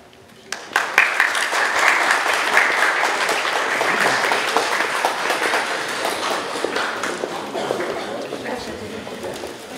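A crowd bursts into loud, sustained applause for teachers at a Polish school prom ball in 2022, with dense clapping that slowly thins toward the end.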